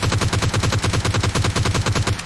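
Rapid sustained automatic fire from a G36C rifle in PUBG Mobile, a loud, even burst of closely spaced shots rattling steadily for about two seconds.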